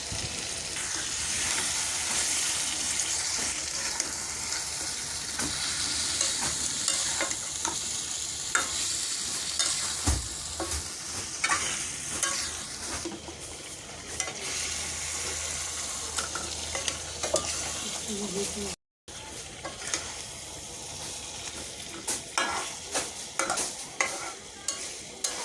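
Onions fry in a pan with whole chicken pieces, sizzling steadily up close while a spatula stirs and scrapes repeatedly throughout, with a brief cut of silence near the end and no speech.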